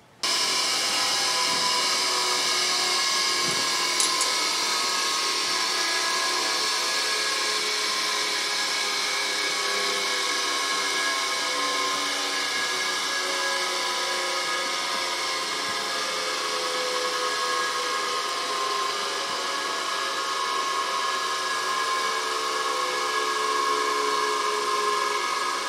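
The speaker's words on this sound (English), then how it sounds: "You go wire wheel this one." A wire wheel spins against a part from a 2004 Toyota Sienna engine during timing belt and water pump work. It makes a long, steady, high-pitched whirring grind that runs unbroken for about twenty-five seconds, close and fairly loud.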